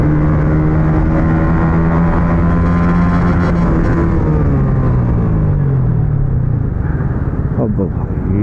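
A motorcycle rides along a road with a loud, steady engine drone and rushing wind, its pitch sliding slowly as the speed changes.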